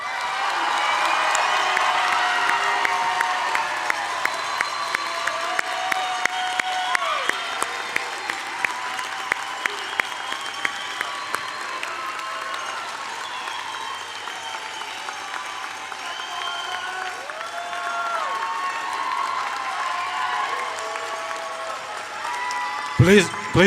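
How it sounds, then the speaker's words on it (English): A large audience at the Edmonds College 2025 commencement applauds the graduating class with sustained, dense clapping and scattered cheers that hold steady for over twenty seconds before tapering off. "Friends and family members, please join me in a round of applause."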